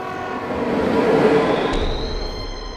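A train rumbles past close by with a rising metallic wheel squeal and a steady roar, no voices present.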